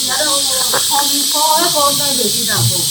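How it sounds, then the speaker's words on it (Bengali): A pressure cooker on the stove lets out a steady high hissing whistle that holds through the whole moment, while someone talks loudly over it. "প্রেশার কুকারে সিটি দিচ্ছে"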